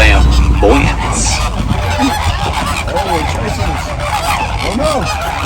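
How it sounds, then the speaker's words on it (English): A flock of flamingos honking at a Disney World Animal Kingdom safari ride, with loud bird honks and calls over a busy background of voices and vehicle noise. "A flock of flamingo is called a flamboyance."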